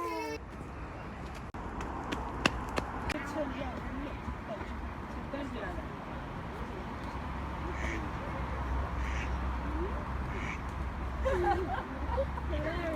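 Ducks quack and other birds call among pigeons and seagulls outdoors, scattered short calls under near-continuous talking and a steady low background rumble.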